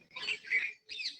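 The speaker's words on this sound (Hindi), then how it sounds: "कलरव है पक्षियों का यहाँ" Birds chirp in bursts outdoors during an open-air yoga session, with several high, bright calls in quick succession, moderately near and alone without talk.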